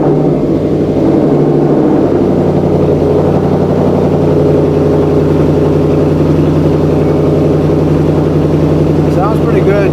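Ford Mustang engine idling steadily after being programmed with a BAMA Rev-X tuner, a close, even mid-pitched rumble that holds for the full duration without revving.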